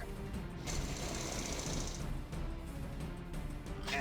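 Drill units in the video game Battle Nations run with a steady, buzzing mechanical rattle that holds continuously at moderate loudness, with brief tonal game effects over it.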